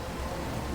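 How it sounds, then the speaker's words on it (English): Rain falling in Minecraft, a brief, dense, steady patter of raindrops with a soft hiss and no voices. "We'll have to deal with the rain."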